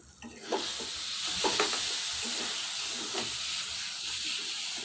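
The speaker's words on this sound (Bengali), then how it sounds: "এখন খুব ভালো করে নাড়াচাড়া করে মিশিয়ে নিয়ে বেশ আরেকটু কিছুক্ষণ টাইম ভেজে নিব।" Ridge gourd stir-fries in a pan after a little sugar is added and the water has cooked off. A steady sizzling hiss runs throughout, with scraping stirs breaking through near the start and again around the middle.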